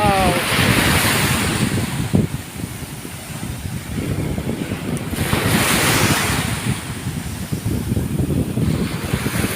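Sea waves surge and break on a shore in two loud swells, with heavy wind rumble buffeting the microphone throughout and a brief faint voice early on.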